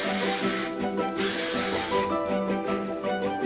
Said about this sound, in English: some light hold hairspray here.